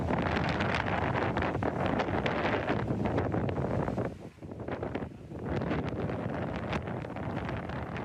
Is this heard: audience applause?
no